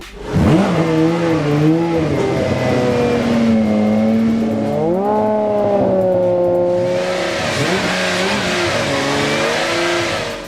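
Aston Martin Vulcan supercar with a six-speed sequential gearbox, its engine revving hard and loud for about ten seconds, pitch climbing and dipping through repeated up-shifts and throttle swells, with no talking.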